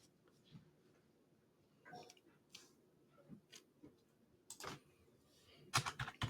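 Scattered keystrokes on a computer keyboard as a search term is typed into an app search box, quiet and irregular, with a few sharper clicks near the end.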